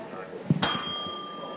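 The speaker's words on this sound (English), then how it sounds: "I've got a bell there that I'm going to hit." A single bell struck as a time warning during a service-learning session rings out once with a bright, sustained tone that slowly fades, heard up close in a room after some handling noise.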